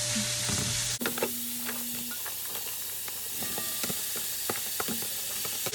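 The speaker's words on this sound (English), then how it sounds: "I just want to cook the onions and garlic for a few minutes until they become translucent." Onions and garlic sizzle steadily in olive oil in a pan for a Brazilian fish stew, a close continuous frying hiss with small crackles and pops throughout, after a brief louder burst at the start.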